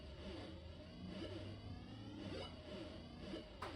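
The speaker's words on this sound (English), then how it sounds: "Just sound effects of the motorbike, which is cool." Motorbike engine sound effects from a Nintendo Famicom game drone continuously, with the pitch rising and falling in repeated revving sweeps.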